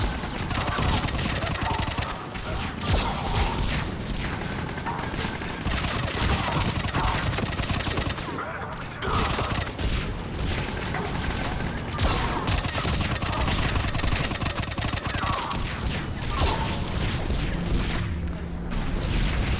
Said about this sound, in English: It's quite heavy fire here.